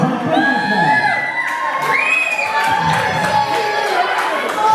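Loud wrestling crowd at an ACW Proving Ground show cheering, whooping and shouting continuously in an indoor arena, with children's shrill yells riding over the sustained roar for the whole stretch.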